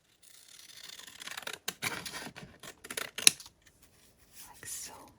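Scissors cutting through crinkly cellophane for a craft project, several close, short snipping and rustling bursts with brief pauses between them.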